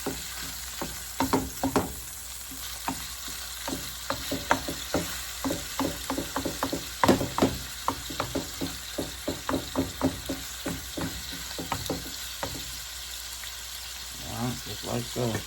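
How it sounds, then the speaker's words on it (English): Ground beef sizzling in a pan while being broken apart, with frequent irregular scraping and tapping of a utensil against the pan over continuous frying, close by, without speech. "Break your ground beef apart"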